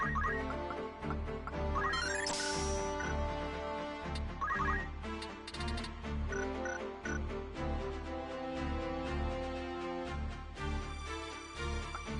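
A telephone rings repeatedly amid music and game sounds from Final Fantasy Tactics, the electronic trilling bursts recurring over several seconds at moderate volume.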